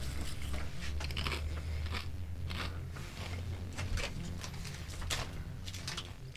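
Close, crisp crunching and biting of crunchy food, a series of sharp bursts over a low steady hum, fairly quiet.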